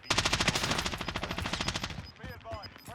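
Automatic gunfire in Call of Duty: Warzone, a long, steady rapid-fire burst of evenly spaced shots that tapers off, followed by a brief voice.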